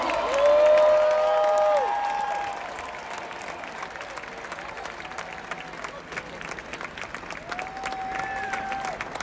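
A large stadium crowd at a hip hop concert at Yankee Stadium cheers and applauds, loud at first and then settling into sustained clapping and whoops, with amplified voices and tones ringing over the roar.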